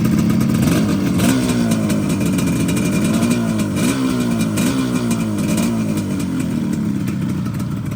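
A Yamaha RD250LC two-stroke motorcycle starts and revs in the street, its loud, close, raspy engine climbing and falling through several throttle blips over steady idle.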